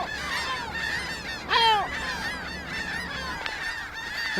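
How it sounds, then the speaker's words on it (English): A colony of agitated seagulls calls on a rocky Balearic coastline, with many overlapping harsh, repeated cries at varying distances and one loud, close call standing out midway. "angry seagulls"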